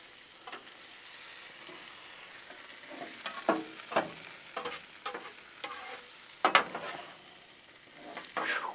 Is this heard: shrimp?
yes